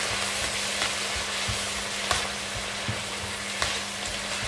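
A stir fry sizzling hard in a pan after a couple of tablespoons of water are added, producing a loud, continuous hiss with small crackles and pops and a steady low hum underneath.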